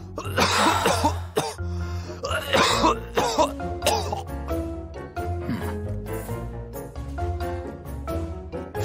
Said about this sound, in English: This persistent cough is called a post-nasal drip.